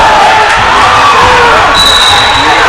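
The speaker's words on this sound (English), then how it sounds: "The crowd has erupted." A high school varsity boys basketball crowd in a gym erupts in loud, sustained cheering and shouting at the end of a close game, a dense roar that stays at full volume, with a whistle-like tone near the end.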